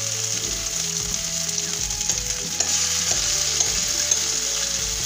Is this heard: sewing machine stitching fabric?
no